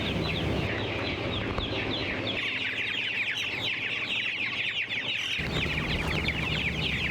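A rooster and hens on a farm give steady, overlapping clucks and chattering calls throughout, close and fairly loud, with a low background hum underneath.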